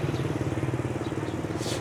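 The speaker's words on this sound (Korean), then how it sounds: "오토바이." A motorcycle engine chugs steadily nearby in Vang Vieng, Laos, with a fast, even pulsing rumble, loud and continuous with no talking.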